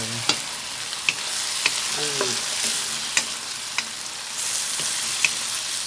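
Gourd and pork sausage are stir-fried in a pan, giving a steady sizzle broken by regular scraping clicks of a spatula, with a brief clatter partway through.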